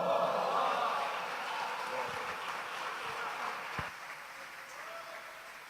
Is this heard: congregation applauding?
yes